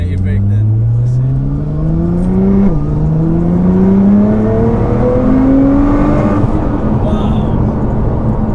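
A 700 bhp Nissan GTR accelerating hard from inside the car, its loud engine note climbing steadily, dropping at a gear change, then rising again.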